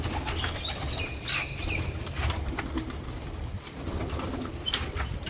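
Pigeons coo softly in a steady background murmur, with bursts of wing flapping and a few brief chirps, no talking.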